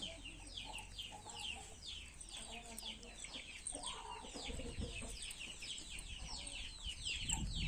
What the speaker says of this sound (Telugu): ఇదిగండి మా కోడి పిల్లలు.